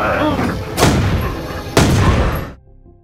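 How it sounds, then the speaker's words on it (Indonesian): A pistol fires twice in a zombie film scene, two loud sharp shots about a second apart over a dense, noisy background that cuts off abruptly near the end. "suara tembakan itu malah menarik perhatian banyak zombie"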